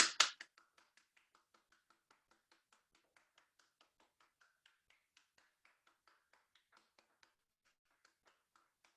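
A boyfriend claps downstairs, heard faint and distant after two louder opening claps, then a long steady run of quick, evenly spaced claps continuing for several seconds.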